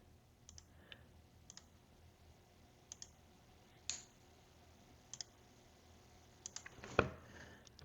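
Computer mouse clicking during building-layout work in Ares Commander software, a series of sharp, faint single and double clicks spaced irregularly, one louder near the end, over quiet room tone.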